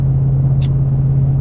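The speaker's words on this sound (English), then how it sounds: "it sounds like a real truck, a V8 Rumble" A steady, deep V8 engine rumble from a 2017 Ram 1500 truck idles continuously with a strong low hum throughout, joined by a brief faint click partway through.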